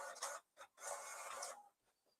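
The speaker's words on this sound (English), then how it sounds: "It's going to print out that piece of paper." A home inkjet-style printer runs through a sheet of paper, giving several bursts of whirring and feeding noise separated by brief pauses, fairly faint and alone.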